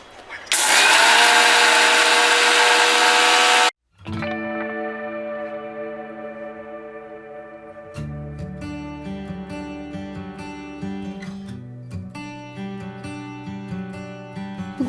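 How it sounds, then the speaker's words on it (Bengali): An electric mixer grinder pulverizes sugar into powder for whipped cream: a loud, harsh whirring burst lasting about three seconds stops abruptly, followed by music. "প্রথমে চিনিটা মিক্সিতে গুঁড়ো করে নিন"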